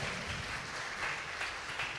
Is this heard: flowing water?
no